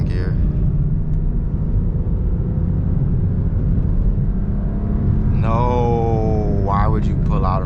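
A BMW E92 335is with a DCT gearbox pulls hard in second gear, a loud, steady engine and road rumble filling the cabin, with a rising harmonic whine and a brief voice near the end.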